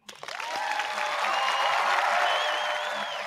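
Applause breaking out after an announcement on a horror-themed show, a sustained wash of clapping and crowd noise that swells quickly and holds, with tonal, whistle-like lines running through it.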